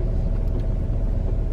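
Car driving, heard from inside the cabin: a steady, loud low rumble of road and engine noise throughout, with a faint brief rattle near the end and no talking.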